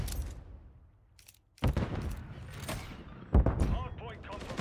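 Gunfire in a Call of Duty match on the Vista map, with sharp bursts of shots arriving after a quiet lull, followed by another cluster of loud rapid reports amid game noise.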